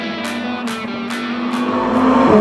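A Lamborghini Huracan Evo RWD Spyder's engine drones close and loud, its pitch climbing as it accelerates, with brief high-frequency bursts punctuating the run.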